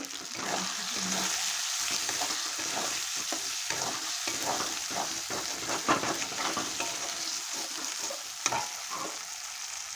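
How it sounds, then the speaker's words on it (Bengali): Chicken gizzards and liver sizzle in hot oil with salt and turmeric, a steady frying hiss broken by scraping stirs and occasional spatula clinks against the pan, with no voices. "আমি দিয়ে দিলাম স্বাদ মতন নুন, পরিমাণ মতো হলুদ দিয়ে খুব ভালো করে আমি কষিয়ে নেব"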